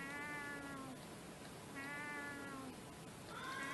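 A cat meows three times in the PS2 video game Chulip, drawn-out tonal calls spaced evenly apart over a quiet background.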